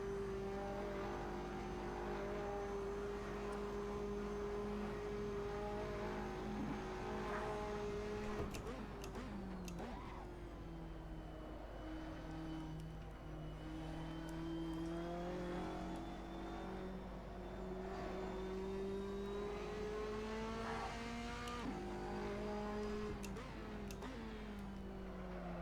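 Race car engines drone and rev steadily in Assetto Corsa, featuring a Porsche 911 and GT2 race, with shifting pitch as cars accelerate and pass, continuous and moderately loud with no talk.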